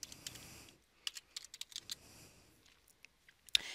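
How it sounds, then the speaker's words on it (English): Login details are typed on a computer keyboard in quiet, short bursts of light key clicks separated by pauses, close and faint, with no talking. "Go ahead and type that in."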